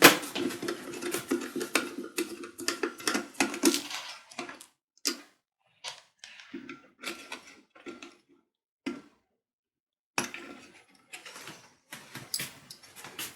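Small metallic clicks, scrapes and rattles come from unscrewing the temperature sensor of an electric kettle during a repair, close and intermittent bursts separated by short silent pauses.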